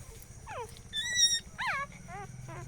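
Newborn puppies from a litter of five whimper in short, high, wavering cries that come one after another at close range, with a faint background hum.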